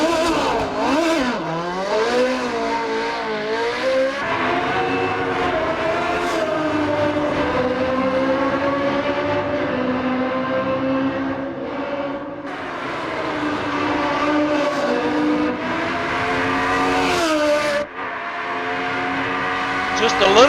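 A race car's engine on a warm-up lap around the Monaco street circuit, its note climbing and falling through gear changes in a continuous, loud onboard drone lasting the whole stretch, with a voice faintly mixed in.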